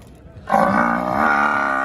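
A milking buffalo at a beauty and milk competition lets out a single loud, close, drawn-out low grunting bellow that begins after a brief quiet moment and holds steady.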